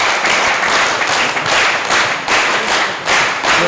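Loud clapping from an audience greeting officials on stage at a ceremony for a de-addiction camp family day, a dense steady round of applause that swells in waves throughout.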